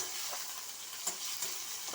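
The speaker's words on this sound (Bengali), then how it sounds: "পেঁয়াজটা লাল লাল করে ভেজে নিই" Onions frying in hot oil with a little sugar, a steady soft sizzle with faint stirring scrapes, close and quiet with no talking.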